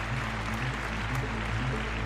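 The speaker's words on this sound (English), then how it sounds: "Give a round of applause." A round of applause from a live audience at a paranormal call-in show, a dense, steady patter of clapping held at moderate volume throughout.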